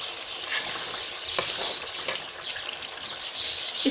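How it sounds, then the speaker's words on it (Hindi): Mutton korma with kewra water frying in a pan, a steady high sizzle throughout with a couple of sharp scraping clicks from stirring. "इसको हम 1 मिनट के लिए और अच्छे से भूनेंगे।"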